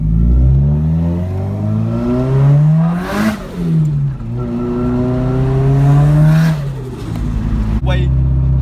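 A turbocharged car with a screamer pipe accelerates hard through repeated gear pulls, engine revs rising and dropping as boost builds, the loud exhaust roar close up throughout with an occasional voice underneath.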